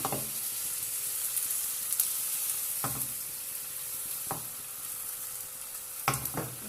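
Paratha batter spread thin and frying in oil in a pan for onion paratha, a steady soft sizzle running throughout with a few sharper scraping or stirring clicks at intervals.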